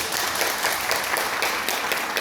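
Dense, steady applause from an audience at a Democratic Party regional meeting in Gyeongnam, many hands clapping at an even level without a break.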